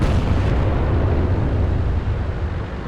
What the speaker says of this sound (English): Artillery's trying very hard to deal with him.